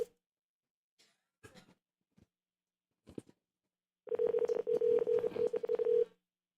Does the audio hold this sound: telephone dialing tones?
yes